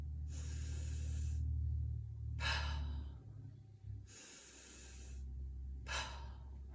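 Slow, deep breaths close to the microphone during shoulder shrugs: two long inhale-exhale cycles, each a soft airy hiss followed by a sharper release of breath.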